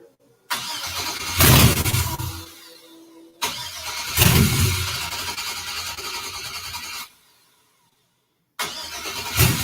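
A 1963 Pontiac Grand Prix with a swapped LS engine cranks and tries to fire in loud repeated bursts, each churning for a couple of seconds before cutting out, with short silent gaps between attempts.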